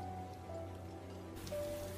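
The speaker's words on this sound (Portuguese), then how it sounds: "está chovendo lá fora" Steady rain falls outside, a continuous soft hiss of drops on surfaces holding at an even level for about two seconds, with a faint low hum beneath and no voices.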